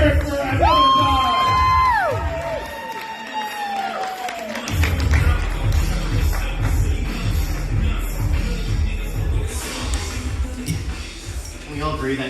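A comedy club crowd at Tempe Improv bursts into loud cheering, whoops and applause. The noise stays dense and sustained across the whole stretch, with a brief musical sting near the start.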